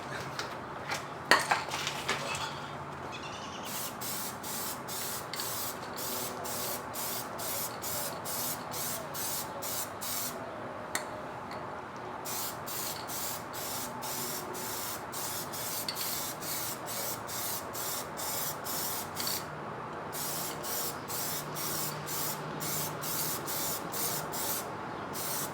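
Plasti Dip is sprayed from an aerosol can onto a C5 Corvette rear diffuser in many short, evenly repeated hissing bursts, with brief pauses and a few clicks and handling knocks, close by.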